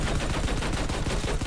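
Rapid automatic cannon fire from a Battlefield 5 anti-aircraft tank with triple front-mounted cannons, a dense, continuous stream of loud, booming shots with no pauses.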